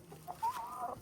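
Backyard homestead chickens cluck faintly in one short burst, a few soft, rising clucks heard from nearby.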